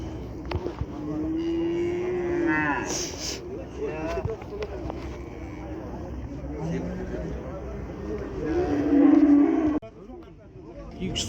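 A bull at a busy livestock market in Kyzylorda bellows in several drawn-out moos, fairly close, amid crowd noise and people talking.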